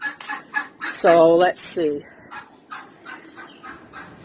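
Turkeys in a barn give a quick run of clucks and short harmonic calls, close and fairly loud, then softer scattered clucking while a person speaks briefly.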